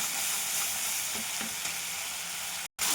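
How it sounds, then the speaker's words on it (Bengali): Steady sizzle of spice paste with poppy seed paste being stir-fried in a pan, a continuous close hiss with faint scraping, cut briefly by a short gap near the end. "ভালো করে কষে নেবো মশলাটা।"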